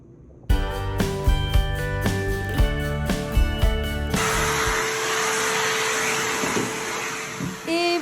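Vacuum cleaner running in a bathroom, switching on to a steady loud broadband whoosh after a few seconds of clattering, tonal activity, holding a constant drone to the end.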